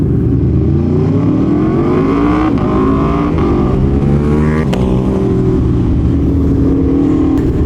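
An Aprilia Tuono V4 1100 Factory with a quick shifter accelerates hard, its loud, close engine climbing in pitch through several quick upshifts with a steady roar throughout.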